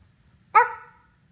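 A single sharp dog bark, close and loud, rings out against a quiet background and fades quickly, with no other sounds around it.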